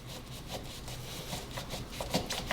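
A quiet, steady rasping scrape as a knife saws down the side of a corn cob, cutting off the kernels, with a few louder strokes near the end.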